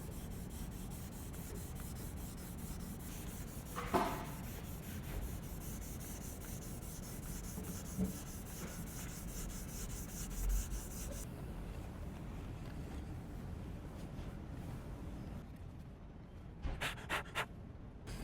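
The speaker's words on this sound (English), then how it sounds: "I'm just going to lightly sand this." Wet sanding a scratch in car paint with 2000-grit paper on a block: close, steady rhythmic rubbing strokes continuing throughout, with a few light knocks and brief pauses near the end.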